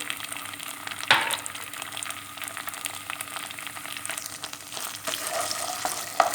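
Boiled chickpeas and tomato paste fry together in a pan, giving a steady moderate sizzle broken by scraping stirs, with a sharp clink near the start and more stirring toward the end.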